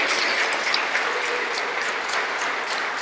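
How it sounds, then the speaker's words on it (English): A crowd at a state senator's bill event in Gardena, California gives steady, dense applause, a continuous wash of many hands clapping throughout. "Give Amy Alley a round of applause because she lived and breathed this bill."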